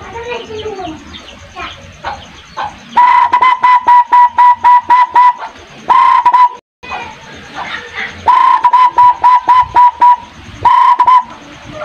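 A homemade PVC or bamboo bird caller imitates a zebra dove, giving repeated short whistled coos in two rhythmic bursts of about eight notes each, loud and close, with someone talking before and between them.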